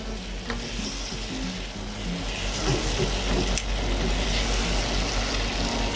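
Sofrito containing wine sizzles loudly in a seafood paella pan, a dense continuous fry with occasional stirring scrapes and a low background hum, no voices.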